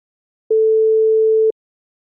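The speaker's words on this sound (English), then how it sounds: "what the Fourier transform sees is an infinitely long sine wave" A single steady pure tone, one second long, starting and stopping abruptly in otherwise complete silence.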